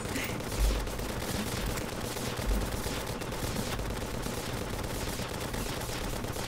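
Rapid, steady gunfire from a gun in Terraria (Master Mode, Spirit mod), a continuous stream of shots under game music and effects, moderately loud.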